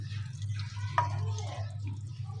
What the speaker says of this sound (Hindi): नीम गर्म पानी डाल लें आप